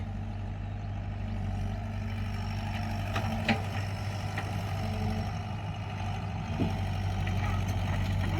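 A Thai vehicle's engine runs with a steady low rumble, jerking and starting poorly, with a few faint knocks and clicks over the drone and no talk.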